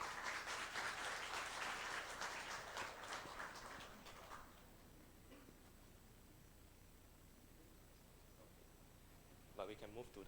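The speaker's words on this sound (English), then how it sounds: "please join me in giving a warm round of applause" Applause from an audience at a public forum and solidarity ceremony, a dense wash of clapping for the first four seconds that then thins to scattered claps and room noise, with a brief burst near the end.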